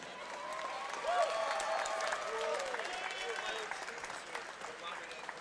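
Crowd applause at a Chosen Few Fighting Championship MMA event, a steady wash of clapping and cheering from a large audience that holds fairly level throughout, with voices mixed in.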